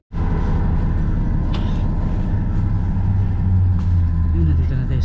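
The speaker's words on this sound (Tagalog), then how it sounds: "nandito na yung bus 361" A city bus, route 361, pulls up to a stop at night in New Zealand, its engine rumbling loud and close in a steady low drone with a few brief higher noises over it.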